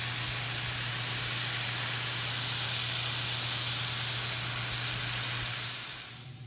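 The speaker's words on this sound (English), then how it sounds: "Our bacon is rendering nicely." Bacon rendering its fat in a hot pan for a bacon cheeseburger sizzles loudly and steadily in a dense close hiss that holds for several seconds before tapering off at the end.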